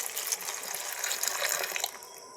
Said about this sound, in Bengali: জল দিয়ে ধুয়ে নেবো ভালো করে দু তিনবার